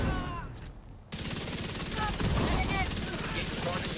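Sustained automatic gunfire in The Division 2, a dense, loud stream of rapid shots that kicks in after a brief quieter moment and runs continuously to the end.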